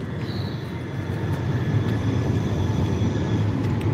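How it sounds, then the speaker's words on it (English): Tram pulling in at a stop in the Netherlands, a loud continuous low rumble of wheels and motor swelling slightly as it nears, with no voices over it. "That's my tram."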